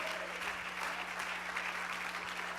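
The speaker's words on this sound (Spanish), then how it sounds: "Can somebody give an applause to God with liberty?" A church congregation applauds during a worship service, a steady, dense wash of clapping heard up close, even and unbroken throughout with a low hum underneath.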